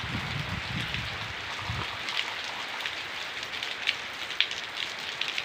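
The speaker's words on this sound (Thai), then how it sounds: "ก็เป็นบรรยากาศสายฝนนะครับผม" Steady rainfall in Buachet district, Surin, Thailand, patters down continuously, a dense, even hiss with occasional louder drops, no voices.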